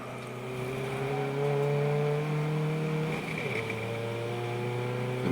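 Race cars at Donington during a trackday championship race, including Minis, pass with a rising engine note that holds and then dips in pitch as a car goes by at middle distance.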